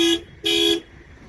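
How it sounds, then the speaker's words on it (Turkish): Two short blasts of a 2016 Ford Ranger's car alarm horn, the first brief and the second longer, sounding close with a quiet pause between and after them. "Bu şekilde alarm devreye giriyor arkadaşlar."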